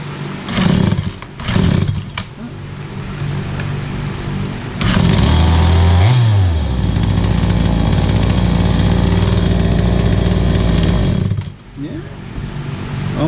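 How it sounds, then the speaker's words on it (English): A small Craftsman 55cc chainsaw engine runs loud and close, revving up in bursts, then holding a high, rattling whine before dropping back to idle. "a running chainsaw is worth better than nothing"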